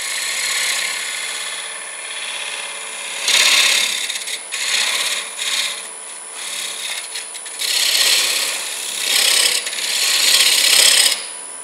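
A wood lathe turns a green wood bowl while a tool forms a tenon, producing scraping, rasping cuts that come in bursts of varying loudness over a steady motor hum.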